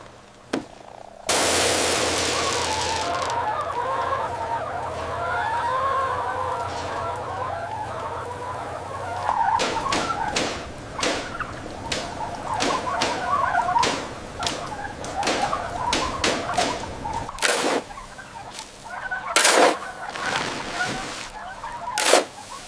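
Dense, continuous gobbling and chatter of many turkeys fills a barn, with sharp clicks and knocks cutting in during the second half.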